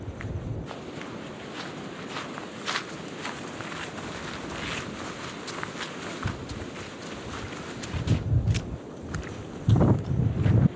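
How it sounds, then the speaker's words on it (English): Wind gusts on a mountain trail, mostly a faint background hiss under nearby footsteps, then low buffeting bursts toward the end. "It is quite windy up here"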